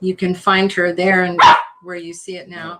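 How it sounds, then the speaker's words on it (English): A pet dog barks repeatedly in short, loud, close yips and woofs, several in quick succession with a brief pause, while people talk on a podcast. "That's our dog."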